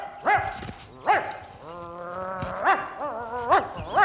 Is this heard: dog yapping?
yes